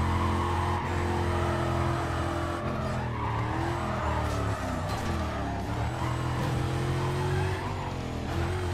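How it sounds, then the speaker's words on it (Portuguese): Car drifting in the Need for Speed Carbon Redux video game, with a continuous loud engine roar and long wavering tire squeals as the car slides, with no talking. "Eu gosto mais de fazer drift nessa situação aqui mesmo."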